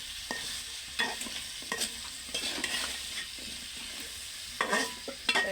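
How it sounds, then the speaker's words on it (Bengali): Freshly picked vegetables being sautéed and stirred in a pan, a quiet sizzle under repeated scraping strokes of a spoon, close and fairly soft, with no talking. "এটাকে ভালোভাবে নাড়াচাড়া করে দিব ভালোভাবে কষিয়ে নেবো"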